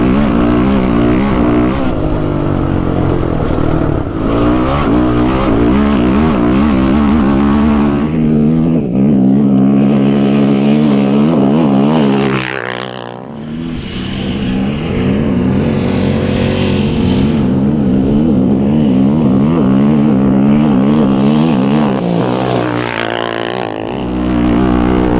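A motorcycle fitted with XTravel BVS suspension engine drones steadily while riding, loud and close, with rising and falling revs, a brief dip as the throttle backs off, then pulling strongly again under wind noise.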